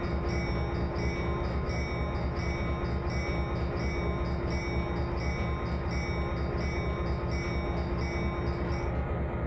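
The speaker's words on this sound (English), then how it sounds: "We'll switch off that bell." A locomotive bell in the Trainz train simulator rings in a steady repeating rhythm over a constant loud rumble of diesel engine and rolling freight train, with no voices.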